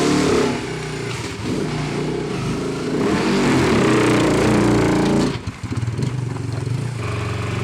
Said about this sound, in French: je prends la Ferrari